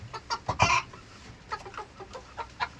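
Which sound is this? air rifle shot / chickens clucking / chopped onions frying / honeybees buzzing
chickens clucking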